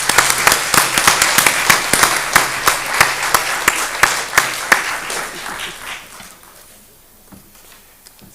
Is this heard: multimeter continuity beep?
no